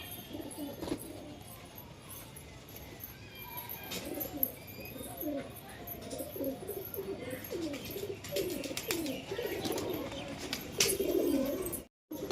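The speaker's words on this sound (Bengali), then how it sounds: "এই যে উপরে কবুতর নামছে" Soft, repeated pigeon coos throughout, fairly close, with faint rustling and occasional chirps in the background; no talking.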